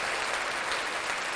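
A small group claps during a live chat show about the NBA Finals, a brief, moderately faint burst of mixed applause with no one speaking.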